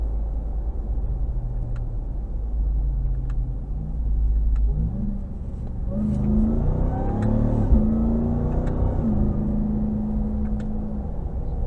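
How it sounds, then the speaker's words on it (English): A 2022 Ram TRX pickup's engine revs hard toward redline during a drive, a loud, close rumble that climbs steadily in pitch over several seconds, then holds a high roar. "It'll redline like it's nothing."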